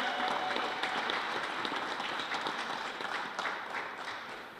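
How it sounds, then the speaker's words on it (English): A crowd at a winter farmers market celebration in Dorchester claps in a sustained, moderately distant round of applause that gradually tapers off toward the end. "Can I have a big round of applause for everyone that spoke up here today?"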